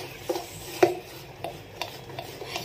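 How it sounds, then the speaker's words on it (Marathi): A spoon scrapes and stirs through thick chana dal and rice dhokla batter with baking soda in a bowl, with a few soft knocks against the side at uneven intervals. "खायचा सोडा एकदम असा सर्व मिक्स करून एकजीव करून घ्यायचं"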